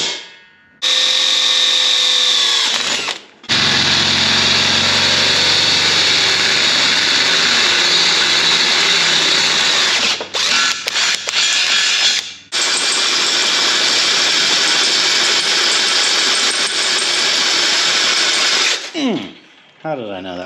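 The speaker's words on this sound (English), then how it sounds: "I'm gonna drill a hole right here." A power drill boring a hole into an old gate, running loud and steady for long stretches with brief pauses and restarts, the motor whining close by without talk.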